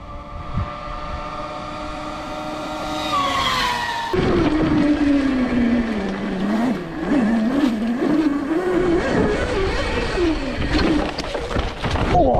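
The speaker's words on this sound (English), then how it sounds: "First ride on the ETM RTR," Surron ETM RTR electric dirt bike starts its first ride, its electric motor whine rising and wavering as it pulls away and changes speed, close and fairly loud over ground noise.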